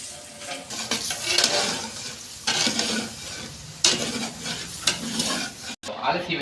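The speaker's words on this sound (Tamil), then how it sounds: "தூள் போட்டுட்டு தயிர் ஊற்று." Curd poured over spice powder in a hot pan, sizzling and frying steadily with clinks and scraping stirs at intervals, close and moderately loud, ending in a brief cutoff.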